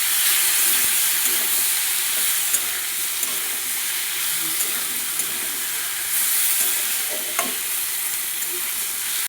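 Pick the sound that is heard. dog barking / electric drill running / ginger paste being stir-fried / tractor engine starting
ginger paste being stir-fried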